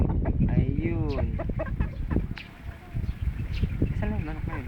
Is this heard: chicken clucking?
yes